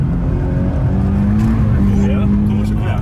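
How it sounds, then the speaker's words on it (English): Toyota GT86 sliding sideways on an even surface, its engine holding a steady, loud drone with tyre noise as the car drifts, under a running voice throughout. "you can use the weight of the car to slide it quite nicely"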